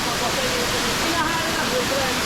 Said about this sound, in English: In Beaumont, the 3-pond waterfall.